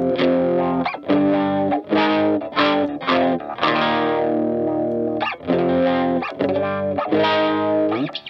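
Distorted electric guitar runs through a Behringer Hellbabe wah pedal with its boost engaged, playing loud, sustained chords in short phrases with brief gaps and the sweep shifting the tone, without any talking.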